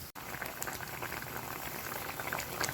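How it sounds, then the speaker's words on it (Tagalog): Fish paksiw, a vinegar fish stew, bubbling steadily in a covered pot, with a constant close hiss and crackle of boiling and small scattered pops throughout. "So, ayan guys, kumukulo na"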